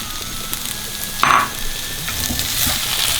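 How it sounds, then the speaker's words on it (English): Chicken, bamboo shoots, mushrooms, water chestnuts and white spring onions stir frying in a wok over a high gas flame: a steady close sizzle with a brief louder clatter of tossing partway through, and no talking. "you keep stir frying this for 2 minutes"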